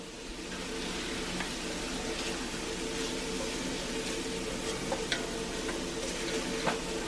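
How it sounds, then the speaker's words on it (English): Garlic and jalapeno sizzle steadily in oil in a cast iron pan, a continuous frying hiss with a few light scrapes and taps of stirring over it. "I'm going to add my garlic and jalapeno. Just want to make sure there's a little oil in there."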